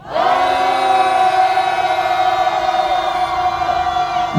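University students at a protest outside the Seoul Western District Court let out a loud, sustained roar in unison, a single held shout from many voices lasting about four seconds.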